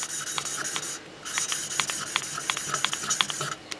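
Valves of a Husqvarna YTH150 lawn tractor engine being lapped: a steady gritty rubbing and rasping of valve against seat, close up, with brief pauses and sharper scraping strokes as the valve turns back and forth.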